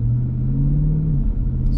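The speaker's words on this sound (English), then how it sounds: "And track mode, light acceleration." Car pulling away with light acceleration in track mode: a loud, steady engine rumble with a smooth low tone rising gently, close and without talk.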